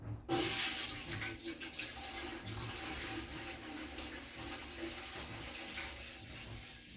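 Tap water runs steadily into a pot in a countryside kitchen in northeastern Ontario, ready for canning peaches. It makes a continuous, moderately loud gushing stream that starts abruptly, with a voice speaking faintly underneath.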